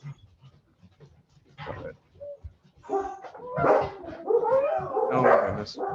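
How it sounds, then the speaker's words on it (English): Big dogs barking indoors at home, a few scattered barks and whimpers early, then a louder burst of excited barking and yelping toward the end, with a person's voice mixed in. "And I have dogs."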